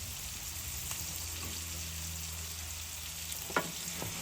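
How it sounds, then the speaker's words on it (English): Onions slowly fry in a pot for beef liver with onions and gravy, a soft steady sizzle with occasional stirring scrapes and a brief clack. "Back on the onions, and we're going to just give them a stir."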